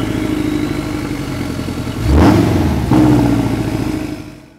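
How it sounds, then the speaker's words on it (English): A Porsche 718 Cayman's turbocharged 300-horsepower four-cylinder engine revs up loudly, swells to a peak, holds a raised tone, then fades away, heard close with no talking. "the soundtrack that comes from the 4-cylinder turbocharged engine producing 300 horsepower"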